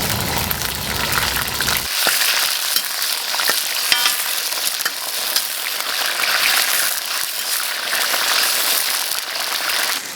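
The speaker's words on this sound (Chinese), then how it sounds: "葱、香菜，这些八角、桂皮、香料。 还有一些草果之类的，胡椒，一起给它熬油啊" Oil simmering with scallion, cilantro, star anise, cinnamon, black cardamom, pepper and other spices, giving a steady dense crackling sizzle that runs loud and unbroken throughout, close up, with no talk.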